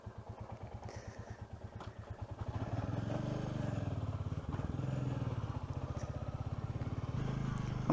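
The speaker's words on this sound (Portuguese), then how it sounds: "É um monocilindro, é uma moto com um cilindro só, mas tem um ronco bem interessante, lembrando que ela está toda original, com escape original." Thumping single-cylinder exhaust of a 2023 Royal Enfield Classic 350 Dark Stealth on its original exhaust, a steady low pulse at idle that grows louder and deeper as the rider pulls away, heard close and continuous.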